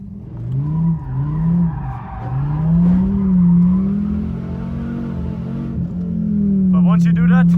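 A Dodge Viper ACR's engine drones at steady load on a track at an exclusive car event, its pitch rising and falling as it's driven, with a voice talking over it throughout.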